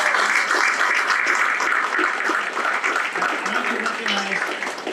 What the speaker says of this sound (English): Let's give the PBA a round of applause.